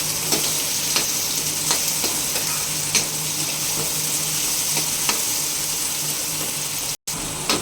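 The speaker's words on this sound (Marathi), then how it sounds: "टोमॅटो पण चांगलं तेलामध्ये परतून घेऊया" Tomatoes sautéing in hot oil with fried onion for an egg masala curry, a steady close sizzle with light stirring clicks throughout and no talking.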